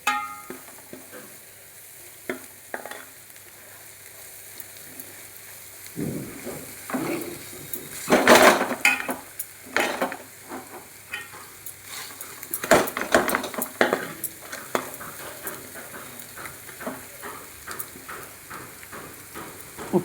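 Chili powder being stirred into food frying in a pan, giving a soft sizzle under repeated spoon scrapes and metallic clinks against the pan, louder in the middle stretch.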